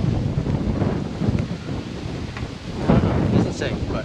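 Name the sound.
wind blowing on the microphone outdoors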